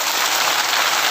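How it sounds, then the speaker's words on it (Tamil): Schoolchildren at a high school in Erode district clap together in a brief, dense, hissing burst of applause that sounds much like heavy rain, with no voices over it. "ரொம்ப ரொம்ப ரொம்ப பிடிச்சிருந்தா தலைக்கு மேலே கைத்தட்டுங்க"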